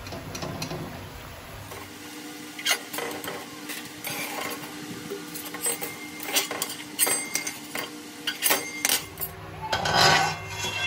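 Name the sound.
frying and stirring phuluri fritters in oil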